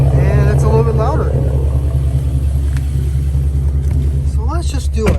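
A 2020 Jaguar F-PACE SVR with a nitrous build idles in dynamic mode, giving a steady, deep, loud engine rumble that runs throughout under a voice.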